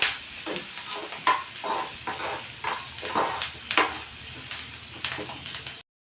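Mushrooms frying in a pan with a soft sizzle, broken by regular scrapes and stirs of a spatula at a close, even rhythm before everything cuts off.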